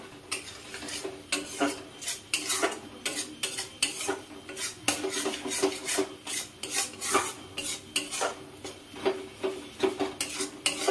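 Spice paste fries in oil in a pan for bottle gourd kofta curry, with a utensil scraping and stirring in quick repeated strokes over a soft sizzle, rhythmic and close.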